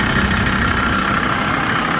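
A used minibus engine at a winter car market idles steadily and evenly, a dense low rumble with no breaks, no smoke or leaks noted, and no talk over it.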